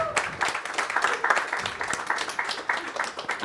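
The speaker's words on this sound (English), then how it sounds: "a huge round of applause for Rakesh Om Prakash Mehra sir" Audience applause for Rakesh Om Prakash Mehra at a book event, close, lively clapping from a modest crowd in uneven bursts lasting a few seconds.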